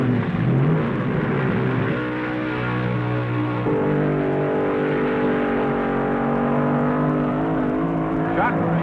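A Chevy-powered drag racing car at the 1970 NHRA Nationals at Raceway Park roars down the strip, its engine note climbing and holding steady. A commentator talks over the engine throughout.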